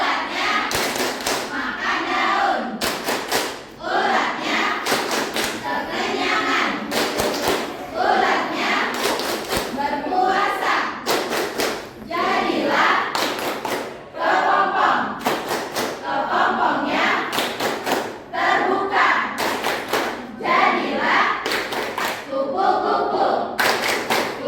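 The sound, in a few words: class doing the butterfly clapping chant (tepuk kupu-kupu)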